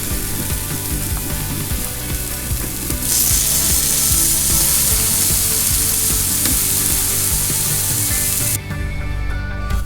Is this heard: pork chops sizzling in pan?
yes